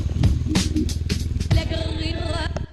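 Honda Nighthawk 450 motorcycle on a test ride after fitting a 3D-printed part, with an engine rumbling low and steady under bumpy clatter and wind, loud and close throughout.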